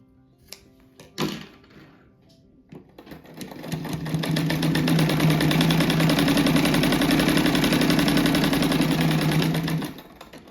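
A sewing machine stitches a 2 cm black fabric strip onto small patchwork scraps for a rag rug. A few handling knocks come first, then the motor runs steadily and loudly for about six seconds before stopping.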